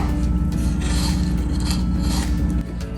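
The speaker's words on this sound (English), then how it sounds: "this is where this PVC pipe is going to go through" A PVC pipe scrapes and rubs as it is forced through a hole in a DIY hydroponic aeroponic garden tower, making a steady, loud rasping friction that runs for about three seconds and eases off near the end.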